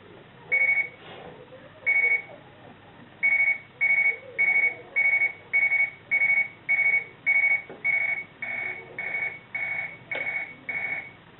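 A Cobolt Speechmaster T-10 talking alarm clock beeps in repeated bursts that start slow and speed up into a rapid, steady pulsing, loud and close.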